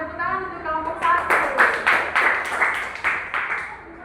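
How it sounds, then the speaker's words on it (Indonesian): A classroom group of children gives applause for a student team, a run of bright claps building up after a voice and carrying on steadily to the end, close by. "Tepuk tangan untuk kelompok 1."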